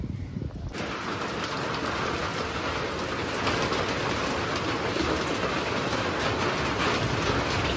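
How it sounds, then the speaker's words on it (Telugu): Steady, dense rainfall pours down continuously, a broad even roar with no voices, holding at the same level throughout. "వర్షం పడుతుందండి ఫుల్గా"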